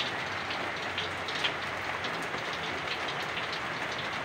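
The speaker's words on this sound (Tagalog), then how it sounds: "Naku, napakasama ng panahon dito. Ang lakas ng ulan." Heavy rain pours steadily onto surfaces outdoors in foggy weather, a dense, continuous hiss with scattered brighter drops and no voices.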